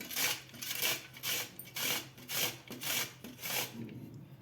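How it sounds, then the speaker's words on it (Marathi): Peeled cucumbers rubbed against a hand grater for raita, a steady series of about eight rhythmic rasping strokes, close and clear, with no talking. "तर आपल्याला हे खिरे आता खिसून घ्यायचे आहेत।"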